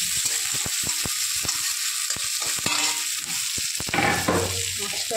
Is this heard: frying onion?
yes